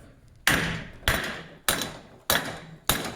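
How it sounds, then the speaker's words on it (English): Five sharp hammer blows land on a fire extinguisher bottle mounted in a race car at an even, unhurried pace, each with a short ringing decay. "now if I try to hit with a hammer"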